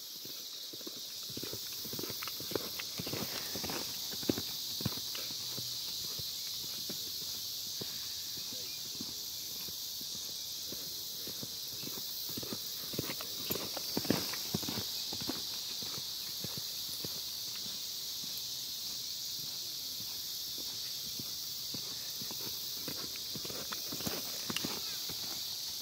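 A broke gelding lopes slowly, its hoofbeats a soft, steady, fairly distant rhythm under constant outdoor background noise for the full length.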